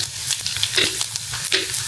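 Whole cumin seeds sizzling in hot oil, alongside dried chillies, while cooking Bengali chicken kosha; a steady close crackle and hiss with a few sharper pops.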